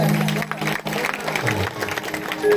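Applause rises from a crowd at a Hanuman temple devotional kirtan in rural Rajasthan, a dense patter of clapping that continues steadily across the clip while a voice speaks over it.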